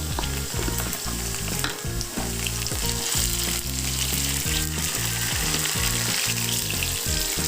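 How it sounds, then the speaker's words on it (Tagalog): Tomatoes sautéing in a pan, a steady close sizzle and crackle that runs unbroken throughout, under a rhythmic music bed with a prominent bass line. "Igisa natin ang kamatis hanggang sa madurog ng malala"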